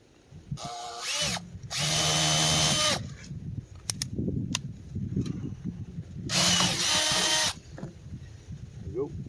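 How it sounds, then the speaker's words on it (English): A power drill bores a hole through a plastic septic tank riser lid outdoors, two loud sustained whirring bursts separated by handling clatter and faint talk. "I do want to drill a hole through the lid first"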